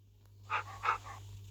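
A dog in a video game pants in a few quick breathy puffs, close and soft, over a low steady hum.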